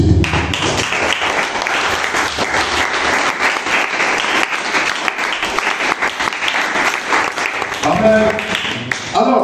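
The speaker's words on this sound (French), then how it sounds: "On acclame le Seigneur Jésus" A church congregation at a servants' training seminar in Burkina Faso claps in sustained, dense applause to acclaim the Lord Jesus. It is loud and close throughout, with voices mixed into the clapping.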